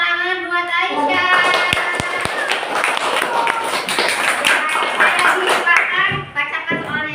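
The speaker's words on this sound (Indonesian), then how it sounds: "Tepuk tangan buat Aisyah." Classroom children clapping together for a classmate, rhythmic group clapping in a small room with children's voices and chatter mixed in, ending as the noise settles.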